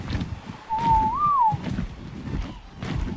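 A single short whistled tune with a rising then falling pitch plays in ARK: Survival Evolved, clear and fairly close over low rumbling background game noise.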